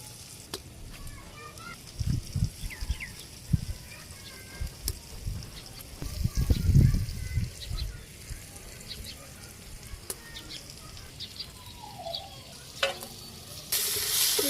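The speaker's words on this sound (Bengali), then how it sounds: "আমি সবজিও কষিয়েছি আর ওইদিকে সবজি কাটতেছি, এই জন্য আমার সবজি কাটার থাকে থাকে এটা নাড়তে হয়।" Vegetables and fish being sautéed and stirred in a pan over a handmade clay stove in a Bangladeshi village, with a soft continuous sizzle, scattered scraping stirs and a louder burst midway, fairly faint and close.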